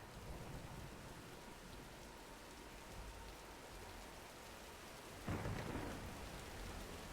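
Thunderstorm in the video game Tomb Raider (2013): steady hiss of heavy rain on surfaces throughout, with a sudden louder rumble of thunder rolling in near the end, no voices.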